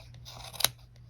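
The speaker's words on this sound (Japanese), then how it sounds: "長く飛び出てるところを切る感じでやるとうまくいくと思います。" Scissors snip stray yarn while trimming a pompom, one crisp close cut in the middle of quiet handling rustle.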